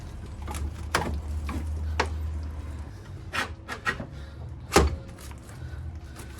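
Metal sleeve being slid and worked into a Golf R32 hub while fitting coilovers, giving scattered scraping rubs and a few sharp metallic knocks and clicks over a low garage hum.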